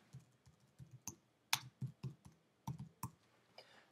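Typing on a computer keyboard, heard as a quiet, close run of irregular clicking keystrokes with brief pauses and a few sharper key presses.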